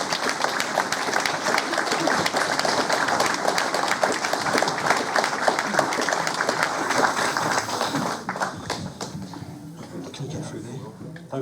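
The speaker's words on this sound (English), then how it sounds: "Just give him a round of applause" An audience at a brass band concert held at a hospice gives sustained, dense applause that carries on steadily before thinning and fading toward the end.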